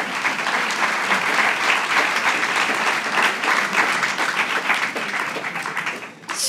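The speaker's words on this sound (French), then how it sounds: "je propose une petite ovation pour cette conférence" A sustained ovation from an audience in a bookshop after a literary conference, with many hands clapping densely and steadily for several seconds before tapering slightly at the end.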